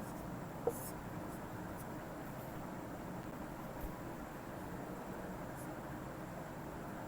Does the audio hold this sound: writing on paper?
yes